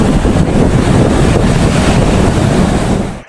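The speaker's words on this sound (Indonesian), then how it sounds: "Yang ketiga, suara deburan ombak." Ocean waves on a beach roar as a loud, continuous rumbling wash, with heavy wind buffeting the microphone throughout before the sound cuts off abruptly at the end.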